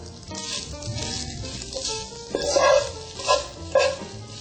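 Tofu frying in a pan over a medium flame gives a close, crackling sizzle with bursts of louder spitting and a few tonal clinks toward the end.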